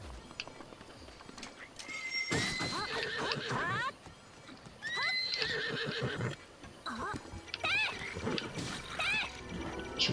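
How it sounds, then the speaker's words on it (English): A horse in the video game Zelda whinnies several times over a steady clip-clop of hooves, the loud neighs recurring across the scene, with faint splashing in the mix. "but he has a horse."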